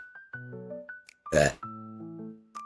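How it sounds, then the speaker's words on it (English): A single burp erupts loud and close, a short broadband burst set between stretches of tonal game music and chimes. "I'm not meaning to burp."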